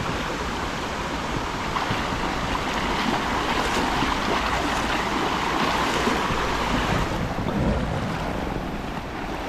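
River current rushing steadily past, a loud continuous broadband wash of moving water with gusty wind noise on the microphone, no voices.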